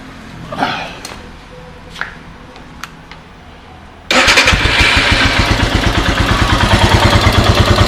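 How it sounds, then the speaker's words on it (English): A Royal Enfield Himalayan motorcycle, being set up for carburetor tuning, sits quiet with a few faint clicks before its engine fires and settles into a loud, steady idle with an even, rapid thumping pulse. "Start the bike, let it idle, increase the idle RPM"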